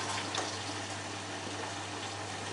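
Water rushes steadily into the drum of a Beko b300 washing machine during the rinse stage of a 60-degree towels cycle, a continuous even hiss with a low hum underneath.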